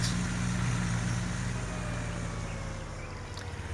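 A vintage tractor in Farming Simulator 19 rumbles in a steady low drone under a broad, even hiss, continuous and fairly close with no talk.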